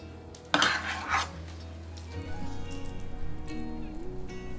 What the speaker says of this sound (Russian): Теперь мы перекладываем нашу готовую кашу в тарелочку.